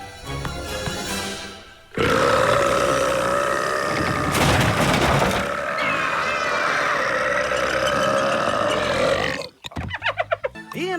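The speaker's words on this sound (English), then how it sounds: "Now, all I have to do is burp you." A cartoon baby dinosaur lets out a long, loud, drawn-out burp that lasts several seconds, then ends in a few short, choppy gulps.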